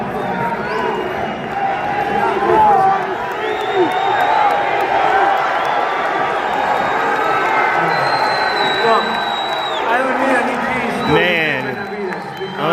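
A crowd at a boxing ceremonial weigh-in in Las Vegas for David Benavidez cheers and whoops throughout, loud and sustained, with several voices shouting and talking nearby over the roar.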